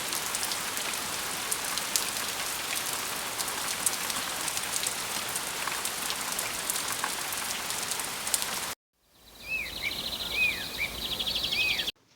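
Steady rain falls for about nine seconds, then cuts off to a quieter stretch with faint chirping birdlike tones.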